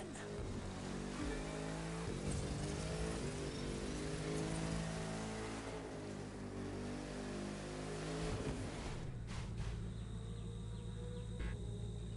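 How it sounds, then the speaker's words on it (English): Racing car engine in The Crew 2 roars steadily with revving harmonics throughout, shifting to a different, lower drone near the end, loud and continuous with no talking. "Listen to the engine."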